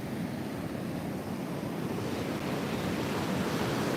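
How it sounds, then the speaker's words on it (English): Ocean surf at Fingal Head beach rolls in as a continuous broad wash of breaking waves, steady and moderately loud, with wind buffeting the microphone throughout. "Nice waves."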